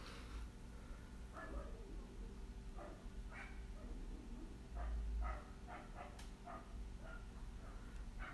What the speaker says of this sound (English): of course he's freaking out and barking at everybody